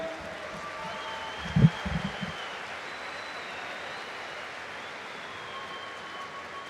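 An arena crowd at an MMA fight night in Belgrade gives a steady wash of distant applause, with a brief announcer's voice over it near the start.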